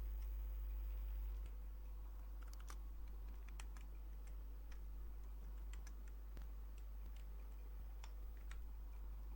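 Code entered on a computer keyboard, with light scattered key taps at an irregular pace over a steady low hum, faint and close, with no speech.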